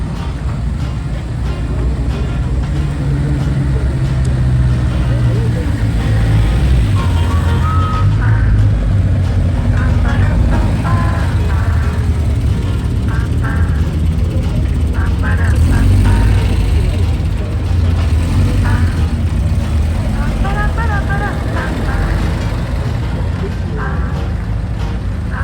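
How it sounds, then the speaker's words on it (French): Steady traffic of cars passing on a road, a continuous low rumble with engines swelling and fading, loud and close throughout, with faint voices underneath. "Voitures."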